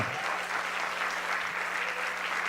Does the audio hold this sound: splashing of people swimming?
no